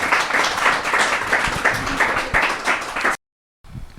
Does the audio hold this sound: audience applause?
yes